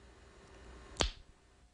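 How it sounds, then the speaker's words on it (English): A single sharp tongue click of the kind used for echolocation by a mobility instructor, one crisp near transient in an otherwise quiet space. "For me, the signal is a tongue click."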